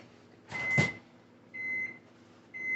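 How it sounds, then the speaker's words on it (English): A kitchen microwave oven heating grits gives a steady hum with a thin high whine, plus short beeps and a clunk of the door or buttons, fairly faint. "there's my microwave."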